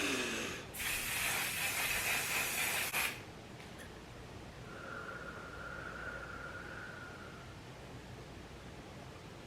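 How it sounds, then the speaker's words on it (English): Makeup setting spray misted from a pump bottle, one continuous close hiss lasting about two seconds, then quiet room tone with a faint tone in the background. "I am going to use this spray because I want my makeup to last."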